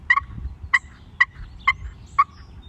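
A turkey pot call sounds five sharp yelps in a loose rhythm, close and clear over a low background rumble.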